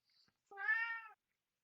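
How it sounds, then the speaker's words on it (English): A pet cat named Shirley gives a single drawn-out, tonal meow, fairly quiet and close, preceded by a faint brief chirp, with silence around it. "It's a very talkative cat."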